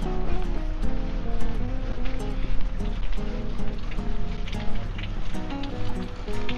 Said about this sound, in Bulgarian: И тук в центъра има чешма.